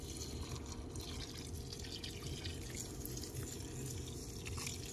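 Garden plants, including dill, being watered after three dry days, a faint steady trickle and splash of water against a low background hum.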